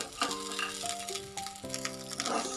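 Masala ingredients and peanuts frying in a pan for hirekaye ennegayi, a steady close sizzle with scraping stirs, while a music-like tonal layer plays underneath throughout.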